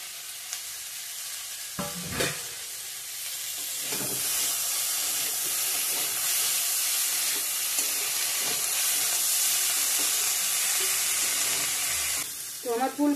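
Cauliflower fries in oil in a pan, a steady loud sizzle and hiss broken by a few stirring scrapes near the start and end.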